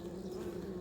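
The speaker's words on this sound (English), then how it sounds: "Bees are starting to come up after me." Bees buzzing around an open beehive with honey-filled frames, a steady dense drone of many insects close by, continuous and fairly loud.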